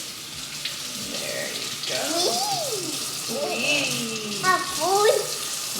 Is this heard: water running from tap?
yes